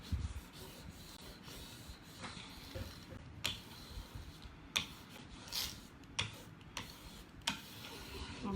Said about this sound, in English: So I'm going to go ahead and use this tool and just start rubbing.